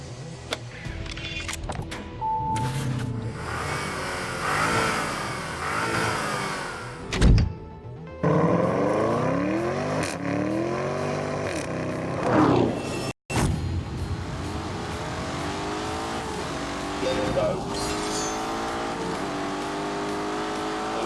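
A Lamborghini Urus engine revs as it climbs a hill in The Grand Tour video game. Loud engine sweeps rise and fall continuously, with a brief break midway and gear-change dips.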